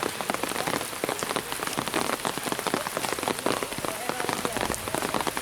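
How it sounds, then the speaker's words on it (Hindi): Heavy rain pours down steadily onto surfaces around a hillside area in Kausani, Uttarakhand, making a dense, constant close hiss and patter with no pauses. "और तेज हो गई बारिश।"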